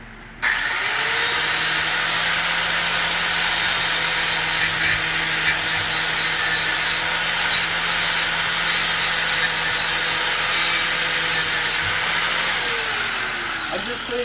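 Power tool grinding rust off old metal on a sled before welding, with a continuous loud abrasive whine and hum that holds steady for most of the clip before tapering at the end.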